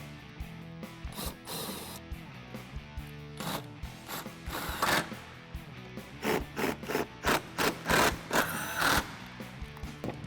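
LED lights being bolted onto a vehicle, heard as a close ratchet clicking in quick bursts with rubbing and scraping mechanical noises, the clicks growing louder and more regular toward the end.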